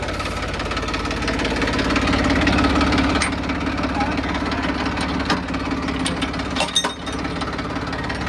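A tractor pulling a brick-loaded trolley up an incline runs with a loud, steady, knocking engine rumble that continues without a break throughout, heard close by.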